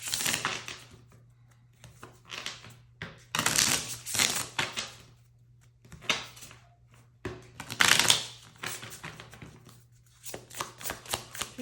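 Tarot cards shuffled and drawn in repeated bursts of crisp riffling and slapping, close and fairly loud, separated by short pauses with no talking.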